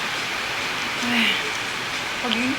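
Heavy rain pours down in a dense, steady hiss, with faint voices briefly murmuring underneath.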